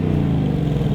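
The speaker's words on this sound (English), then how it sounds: "let's have some V8 sounds" The V8 engine of a 2022 Ford Mustang GT revs with a deep, throaty rumble, loud and close, sustained for a short moment without any talk.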